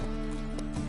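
Horse hooves clip-clopping at a steady riding pace in The Witcher 3, a continuous close rhythm of hoofbeats with no talk over them.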